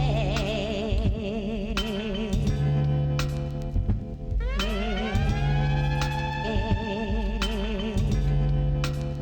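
Siren sample woven into a hip-hop track, wailing pitch sweeps rising over a steady beat and bass loop, loud and continuous with no talking.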